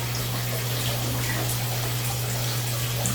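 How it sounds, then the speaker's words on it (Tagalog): Shower water runs steadily during a bath, a constant close hiss of spray with a low steady hum beneath it and no pauses. "Galing naman yung shower na yan."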